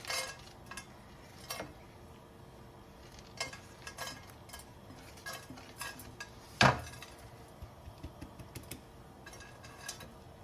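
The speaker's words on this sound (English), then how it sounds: "So I've heated this pan to medium-high heat, dry, no oil in it, and we're going to add the peanuts." Peanuts go into a dry pan heated to medium-high, rattling and clinking sharply with one loud clatter, then a steady run of small ticks and taps close up, with no talking.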